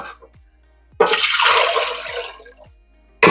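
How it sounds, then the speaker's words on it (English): Warm water, about three and three-quarter cups, pours in a loud splashing rush for bread dough. It starts abruptly, runs for about a second and a half, then tapers off, and a final burst of water follows. "3 3/4 cups of warm water."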